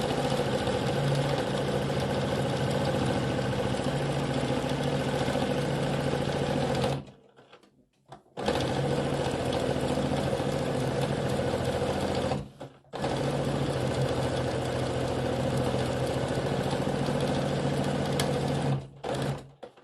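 A sewing machine stitches fabric for a striped snowflake pillow with fuzzy appliqué, a loud, fast mechanical whir running in long bursts separated by brief pauses as the seam is guided along.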